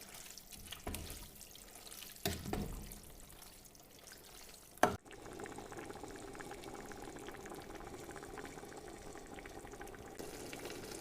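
A few clinks and a brief clatter, then a steady low bubbling simmer of grated beets with sugar and salt in a pot, continuing evenly until the end.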